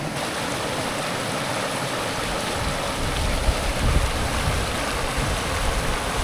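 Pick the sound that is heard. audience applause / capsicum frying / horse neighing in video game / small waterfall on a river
small waterfall on a river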